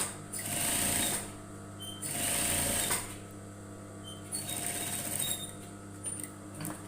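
Sewing machine stitching a women's blazer pocket flap, running in several short bursts of steady whirring separated by brief pauses, close and clear with little talk.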